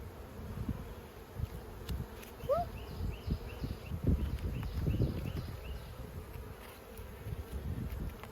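Honey bees buzz in a continuous, soft hum around an open hive during an inspection, with faint handling noises and rustles mixed in.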